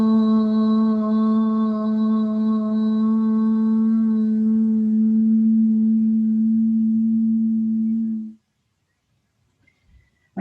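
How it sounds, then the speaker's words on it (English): A sustained group chant of Om closing a yoga class, a steady harmonic tone held for about eight seconds before cutting off into near silence. "let's end the class by uniting our energy with a single chant"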